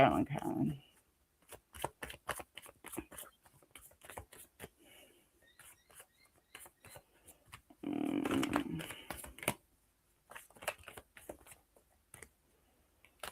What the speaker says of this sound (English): so give a good shuffle